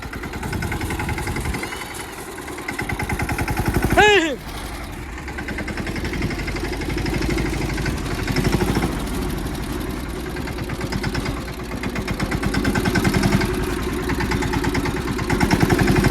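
A mini tractor engine chugs steadily close by in a farm field, its low rhythmic thrum holding throughout, with a brief rising whine a few seconds in.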